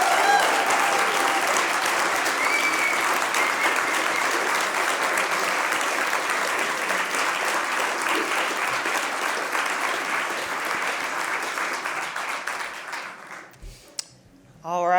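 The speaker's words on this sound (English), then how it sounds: "One more round of applause for Jake," A large crowd applauds an honoree at an awards ceremony, a long, full, even roar of clapping that holds steady and then tapers off near the end.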